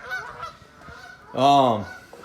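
A single loud, nasal goose honk rings out close by, preceded by fainter honking calls in the background.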